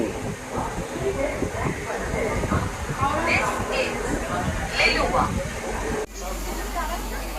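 A Howrah to Dakshineswar local train pulls into Liluah station, its steady rumble and hiss running beneath someone talking close by, with a sudden change in the background near the end.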